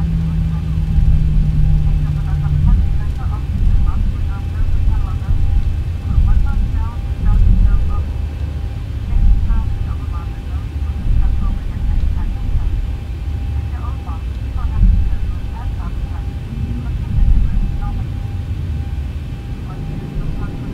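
Dash 8 turboprop engines at takeoff power in the X-Plane 11 flight simulator give a loud, steady broadband roar with a constant drone that holds throughout without a break.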